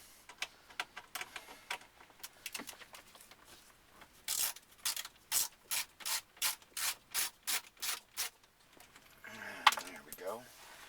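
Screws being backed out of the dash trim around a Nissan Murano Bose car stereo: a dense run of about a dozen sharp, evenly spaced ratcheting clicks, close and fairly loud, with scattered softer scrapes before and a rustle after.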